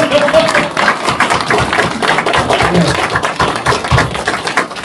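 Audience applause at a 2023 urban regeneration strategy forum during its discussion and Q&A session: a dense, continuous patter of many hands clapping at an even level, with a few low thumps in the crowd.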